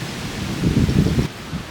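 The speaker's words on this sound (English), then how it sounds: "You can hear the wind." Strong wind gusting at a Normandy bunker site, a brief rough rumbling buffet against the microphone that swells and then drops away.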